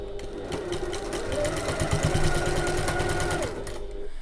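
Sewing machine stitching box corners within the seam allowances of a zip pouch lining, a fast, even mechanical whir with rapid needle ticks, running steadily for a few seconds before slowing to a stop.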